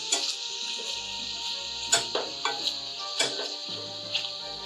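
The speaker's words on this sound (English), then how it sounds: "All right, so we're gonna turn these shrimp over." Shrimp sizzling in a small pan as they are flipped, with vegetables about to go in. A steady hiss runs throughout, broken by a few sharp clinks and scrapes of a utensil against the pan.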